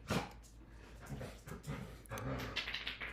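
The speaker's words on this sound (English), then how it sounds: "That was my dogs." Nearby dogs whimpering and panting, with short restless vocal bursts and a brief yelp at the start.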